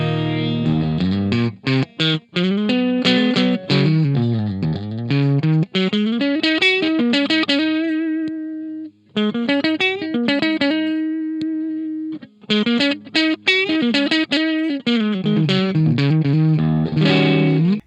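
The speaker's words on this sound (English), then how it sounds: "The clean boost is designed to add more body to your tone and perhaps a slight bit of hair." Electric guitar played through the clean boost effect of an AXE MX300 multi-effects unit, a fuller, slightly hairy tone: continuous melodic lead lines with sliding and bending phrases and chords, loud and up close with no talking.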